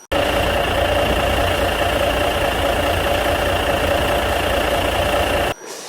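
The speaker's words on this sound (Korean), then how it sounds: "그리고 엔진 좀 딱 부동하는 광경은 잠시 라이브로 보내드리겠습니다." A 2015 Kia New Granbird bus diesel engine idles steadily at close range, a constant droning rumble with a faint hum, cutting off abruptly near the end.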